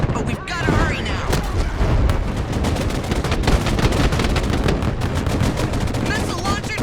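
Dense, continuous gunfire in the Broken Arrow war game, with rapid machine-gun bursts and heavy booms layered into a loud, unbroken battle din that lasts the whole stretch.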